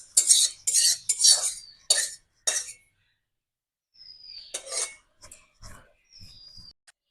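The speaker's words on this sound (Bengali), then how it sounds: "কড়াইটা ধুয়ে বসিয়ে দেব।" Metal clinks and scrapes come in several sharp bursts as a wok is scrubbed and handled in a home kitchen, then a pause and a few fainter knocks and scrapes as it is set down.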